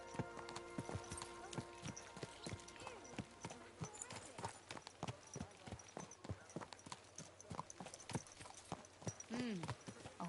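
Horse hooves clip-clop at a steady walking rhythm in the medieval video game Kingdom Come: Deliverance II, fairly close and distinct, with a brief whinny near the end and voices talking over the hoofbeats.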